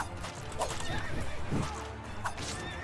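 A horse in the video game Devil Slayer: Raksasi neighs twice, a short whinny early and another near the end, with a thud and clopping in between over constant game music and effects.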